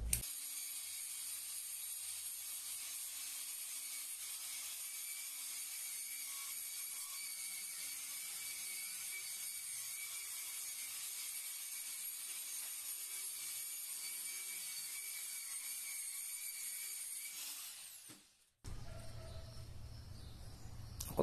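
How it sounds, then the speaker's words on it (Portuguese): Variable-speed angle grinder running at low speed to lightly grind and bevel the cut edge of floor tile, a steady whine holding for about seventeen seconds before it cuts off and winds down. "Essa aqui é uma esmerilhadeira com controle de velocidade. Então a gente vai usar uma rotação bem baixinha só para dar uma desgastada."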